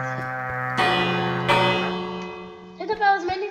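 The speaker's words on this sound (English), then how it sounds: "Hit the bell as many times as you can." The village bell in Minecraft is struck twice in clear, ringing hits during a raid. Its tone lingers and fades before a voice briefly comes in at the end.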